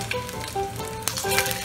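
A potato pancake, just flipped, sizzles and fries steadily in a hot pan, a close, constant crackling hiss with faint tones ringing over it and no talking.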